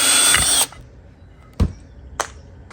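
A power drill whirs for about half a second driving a high hardness wood screw into wood, then stops, followed by two faint clicks, close by.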